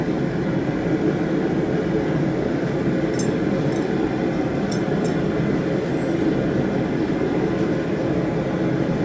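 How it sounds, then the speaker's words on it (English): A gas forge turned up to forge welding heat for a san mai billet roars with a loud, steady broadband rush, with a few faint metallic clinks near the middle and no voices. "I turn the pressure up on the gas a little bit so we can get good forge welding heat"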